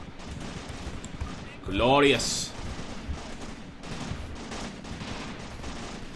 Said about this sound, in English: a lot of Russian gunfire coming from the trees over here